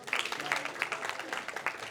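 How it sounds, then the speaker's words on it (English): Scattered applause from a graduation audience, soft and somewhat distant, with uneven claps over a couple of seconds and faint voices mixed in. "Give another round of applause for Brother Captain Andrew"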